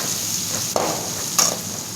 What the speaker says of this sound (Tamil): நல்லா பொன்னிறமாக வதக்குங்களாங்க